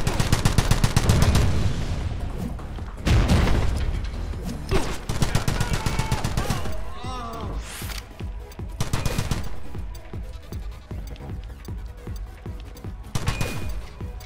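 Rapid bursts of gunfire in the shooter game The Club, on a bunker level, loud and close. Volleys repeat every second or two, with brief gaps between them.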